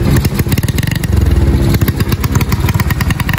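A motorcycle engine revs loudly and close by, its throttle blipped repeatedly in a rough, pulsing rhythm.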